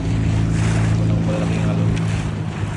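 Large ocean waves surge around a small fishing boat off New Zealand, a loud continuous rushing wash with heavy wind buffeting the microphone.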